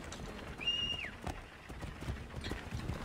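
Horse hooves clip-clopping in Assassin's Creed III on the Boston and Frontier courier missions, a steady close trotting rhythm with a brief whinny, quiet and without talk.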